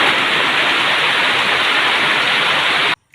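Heavy rain pouring steadily in a flooded Assamese village, a dense, loud hiss with no let-up until it cuts off abruptly near the end.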